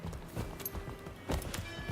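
Rhythmic hoofbeats of a galloping horse in the video game Rise of the Ronin on PS5, fairly quiet and quick, with a game-like quality and no talking.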